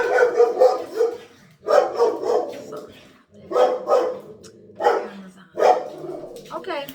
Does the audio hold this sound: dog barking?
yes